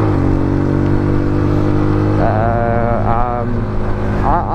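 A Skyjet SJ 125 motorcycle being ridden, its engine droning loudly and continuously with wind rush, the pitch climbing and dipping as the rider shifts and accelerates.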